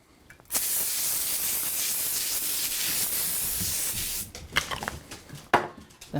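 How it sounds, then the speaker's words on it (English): A single sustained hiss of cooking spray lasts about three and a half seconds as it coats a parchment-lined cookie sheet for chocolate babka, followed by brief clattering handling noises. "spray it with cooking spray"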